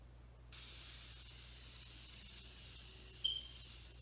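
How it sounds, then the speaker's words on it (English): A Morphe continuous setting spray releases one long, fine, even hiss of mist onto a face, close and fairly soft, holding steadily for a few seconds. "I'm just gonna spray my face."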